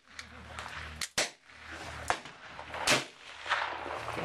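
Gunshots at an outdoor shooting range: a few sharp cracks spaced irregularly, one loud close report followed by fainter shots, with people talking in between.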